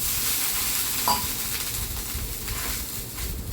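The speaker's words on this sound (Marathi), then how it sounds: "तवा जर जास्त तापला असेल तर थोडंसं पाणी शिंपडायचं तव्यावरती" Water sprinkled onto a very hot dosa tawa gives a steady, close hiss and sizzle that holds for a few seconds, with a small spike near the start and no talking.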